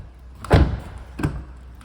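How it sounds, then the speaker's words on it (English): Rear door of a Vauxhall Astra Elite Nav being opened: a solid low thunk of the latch releasing, followed a moment later by a second softer clunk, close and without speech. "Opening the rear doors"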